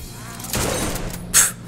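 Shotgun fire in the Blue Estate video game, one heavy blast followed by a sharp bright crack, close and loud against a steady background hum.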